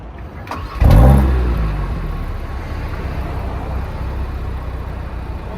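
A 2022 Audi RS3 Sportback Carbon Black Edition fires up with a sharp starter burst and loud exhaust flare, then settles into a steady, rumbling idle that fills the rest of the moment.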